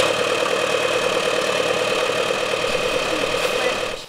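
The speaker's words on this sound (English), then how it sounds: "And she's out on her tractor." A tractor engine turns hay in a field, a steady, close mid-pitched drone running unchanged without talk until it fades off right at the end.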